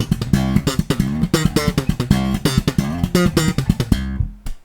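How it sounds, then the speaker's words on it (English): Slap bass riff on electric bass in a funk style, a steady slap-pop rhythm alternating muted ghost notes with fully fretted notes, dense and percussive with sharp pops, played alone before ringing out at the end. "my slapping hand just kept a consistent slap-pop rhythm going while alternating ghost notes and fully fretted notes"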